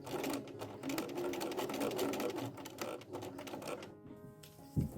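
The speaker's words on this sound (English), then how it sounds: "I'm going to take it to the sewing machine, and I'm going to sew right along the line that I drew" A sewing machine stitching along a drawn line on fabric for fall decor bowl fillers, a fast rhythmic mechanical whir in quick runs with brief pauses, close and fairly quiet.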